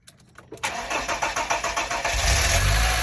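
A VW Polo 6N engine cranks with a rhythmic starter whir, then catches and settles into a steady idle, loud and close, with no one talking.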